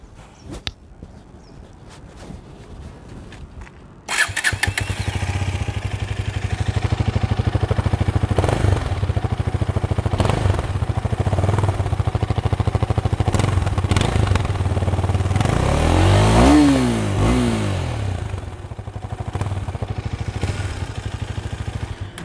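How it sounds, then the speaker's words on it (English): A Husqvarna Vitpilen 250 motorcycle fires up after a few quiet seconds, then idles steadily with a medium-level exhaust note, swelling into a brief rev around the middle before settling back to idle, close and loud. "The exhaust is pretty much very good. It's like medium level sound."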